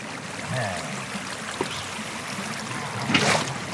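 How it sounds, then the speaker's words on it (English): Flowing water in the Minecraft video game, a steady trickling stream running continuously at moderate level with a brief splashier burst near the end. "The water should flow"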